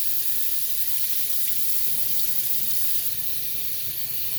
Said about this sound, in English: So I'm just filling it with water and just, again, draining the water.